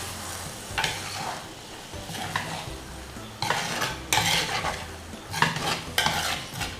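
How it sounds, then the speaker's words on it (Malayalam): A spoon gently turns Kerala-style sardine peera, fish with grated coconut, in a pan on the stove. Soft scraping strokes come in several bursts over a low continuous simmer, with no voices. "ഒന്ന് പതുക്കെ നമുക്കൊന്ന് മിക്സ് ചെയ്യാം"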